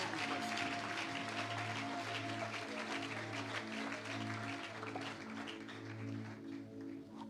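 A church congregation applauds and cheers at a Sunday morning service, steady dense clapping sustained throughout, with music or organ tones held underneath.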